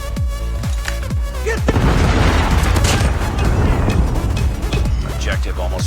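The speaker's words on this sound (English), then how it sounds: "Predator missile inbound." Predator missile strike in a Call of Duty multiplayer match: a loud, sustained blast and rumble fills the middle of the clip amid gunfire thumps, with a voice shouting briefly over the game noise.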